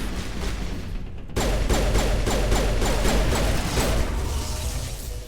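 Rapid pistol fire in the Mass Effect video game, a quick run of sharp shots in a steady rhythm over a loud, dense background of game action and rumble.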